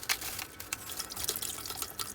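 Water runs and splashes steadily while fish is washed for cooking, with light irregular trickles and drips close by.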